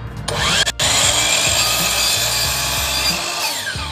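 Power miter saw cutting a 25-degree miter in wood molding set face down, a loud continuous whine and rasp with a brief start at the beginning and a short dip near the start, running steadily alone.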